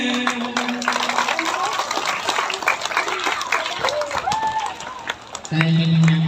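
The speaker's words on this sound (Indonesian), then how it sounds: "Oke, tepuk tangan semuanya." A crowd of schoolchildren applauding at a primary school event with the fire and rescue department, dense clapping under a speaking voice, followed by a loud sustained tone near the end.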